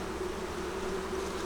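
Honey bees drone in a steady, continuous buzz at an open hive during cold-weather feeding and frame inspection, a dense hum close by with no talk.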